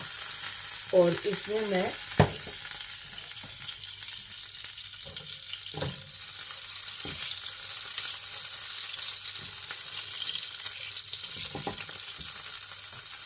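Half a tablespoon of ghee sizzles steadily in a hot kadai while being stirred, a continuous close frying hiss with occasional scrapes; someone speaks briefly at the start.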